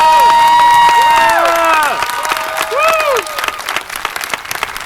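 Crowd applause with cheering and loud shouting voices on top, sustained clapping under whoops and yells that fade toward the end.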